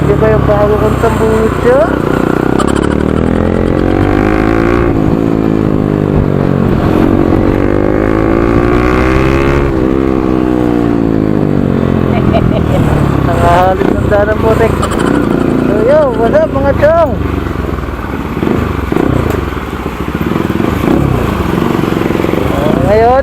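A motorcycle with a new open exhaust and no silencer revs repeatedly, loud and close, in sweeping climbs and drops of engine pitch, with someone talking over the engine.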